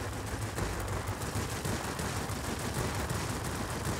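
Video game gunfire rattles in dense, rapid bursts, loud and continuous like automatic weapons firing throughout, with no talk over it.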